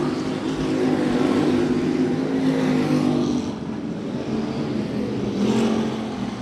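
Dwarf cars race side by side at I-37 Speedway, their engines roaring loud and steady as the pack passes, the drone dipping briefly before swelling again.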